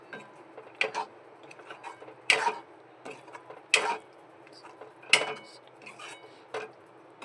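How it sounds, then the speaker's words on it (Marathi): Ground masala paste and potatoes are sautéed and stirred in a pan. A spoon scrapes and clinks against the metal at a steady, roughly once-a-second rhythm, heard close and without voices. "आता आपण त्याला वाटणाला आणि बटाट्याला चांगलं परतून एकजीव करून घ्यायचे आहे"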